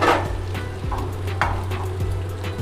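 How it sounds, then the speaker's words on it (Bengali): Boiled, pre-fried noodles are stirred in hot oil inside a rice cooker, a spatula scraping and tapping the pot in irregular strokes over a steady low sizzle and hum. "একটু নেড়ে দিচ্ছি"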